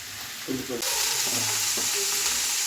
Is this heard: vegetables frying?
yes